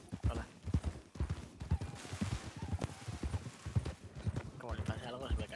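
Horse hooves clip-clop at a steady walking pace on a rural track, close and fairly distinct, mixed with someone talking over them throughout.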